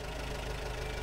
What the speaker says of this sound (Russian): Но это звук от УАЗа.